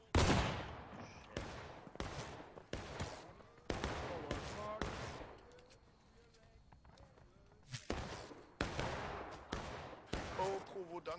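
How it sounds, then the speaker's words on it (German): Musket volleys crack out in the War of Rights Civil War game: a run of sharp, loud shots and ragged volleys about a second apart, with a quieter stretch in the middle and voices talking among the gunfire. "Von oben schießen sie auch noch."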